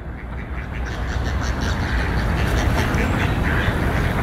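Ducks at the Bronx Zoo quack repeatedly in a busy, overlapping flock, fairly close and loud over a dense outdoor background.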